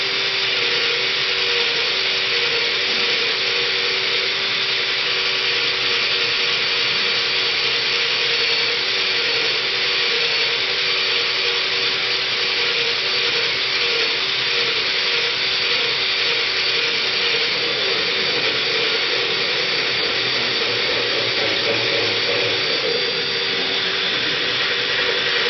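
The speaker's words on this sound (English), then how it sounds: "will drill it out pretty nice" A power drill bores steadily through an object to thin it out, its motor whining in a constant, loud, unbroken drone throughout, with no talking.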